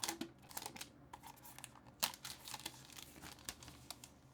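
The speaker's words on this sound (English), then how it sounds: "Go ahead and peel this right off." Protective plastic film being peeled off a thin ACEMAGIC M1 mini PC, with soft crinkling and a few sharp crackles and tearing bursts close up, no talking.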